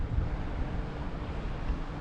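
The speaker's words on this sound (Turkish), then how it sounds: "Denizden bir esinti var böyle." Sea breeze blowing along a beach on the Aegean side of Datça, a steady low buffeting of wind across the microphone with a soft wash like surf beneath, continuous and fairly loud, with no voices.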